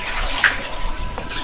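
Spring water pours steadily from a pipe in a rural province, a continuous close splashing rush with no voices over it.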